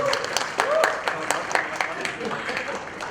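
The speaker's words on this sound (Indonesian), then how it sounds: "Boleh tepuk tangan." Audience applause at a panel event on the media's role in conflict and crisis, a short burst of scattered hand clapping from a room crowd with voices underneath.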